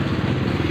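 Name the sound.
motorcycles passing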